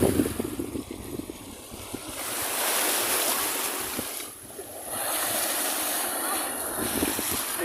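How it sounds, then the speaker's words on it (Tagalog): Sea waves washing steadily against the rocky edge of Bani island, a loud continuous surf roar with wind buffeting the microphone and a few brief voices nearby. "Medyo maalon dito sa gilid ng ng Bakuludan"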